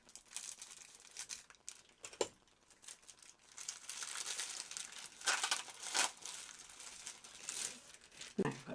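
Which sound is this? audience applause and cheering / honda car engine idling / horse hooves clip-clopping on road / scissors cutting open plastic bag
scissors cutting open plastic bag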